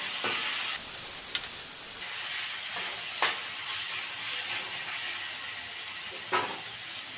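Cucumber and onion are stirred in a frying pan for a Kerala-style theeyal, making a steady close sizzle with a few scraping strokes of the spoon and no talk.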